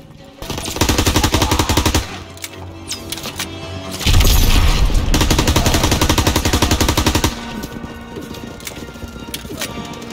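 Sustained machine gun fire from an MG at a hangar in the Call of Duty WWII video game, rapid rattling bursts lasting several seconds with a brief lull between volleys, loud and close.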